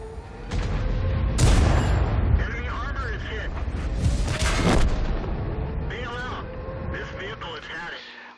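A tank cannon firing in World of Tanks, a loud booming blast followed by rumbling battle noise and scattered explosions, with a voice talking over it.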